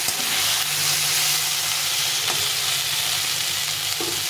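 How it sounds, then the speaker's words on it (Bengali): Potato and bitter gourd sauté with spices in a pan, a dense, steady, loud sizzle with constant stirring scrapes close by, a faint tap here and there, and no speech. "তো এখন এটাকে ভালো করে কষিয়ে নেব, একটু অনেকক্ষণ ধরে একটু কষিয়ে নিতে হবে।"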